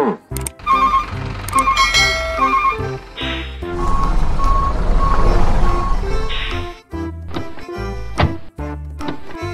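A truck used for hauling cattle reverses with regular high beeps over a loud diesel engine, the beeping steady through the first few seconds before heavy engine rumble dominates, ending in short irregular knocks.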